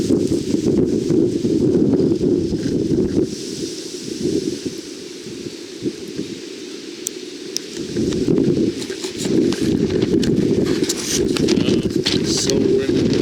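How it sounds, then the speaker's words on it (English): Strong wind buffets the microphone in a loud, continuous low roar that swells and dips in gusts throughout, with faint outdoor sounds above it. "Now that's some wind."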